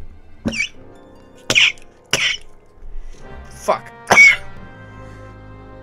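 Several harsh, hacking coughs come in separate bursts, loud and close, with brief quiet gaps and a muttered word between them.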